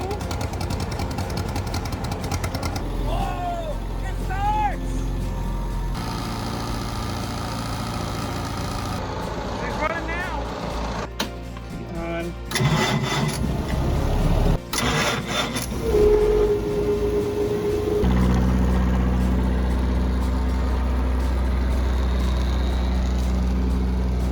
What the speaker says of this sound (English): we started up the engine